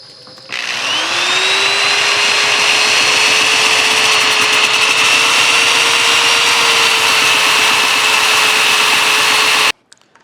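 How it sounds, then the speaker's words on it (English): A power sander whines steadily against a wooden pattern spinning on a lathe, a loud continuous grinding hum with a high tone that starts abruptly and cuts off near the end. "I just got a little sanding disc and a power sander here, and we're just going to smooth this up."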